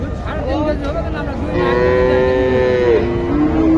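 At a cattle market in Joypurhat, a young Sahiwal cow lets out a long, loud, low moo that rises and holds before fading, with faint background murmur before it.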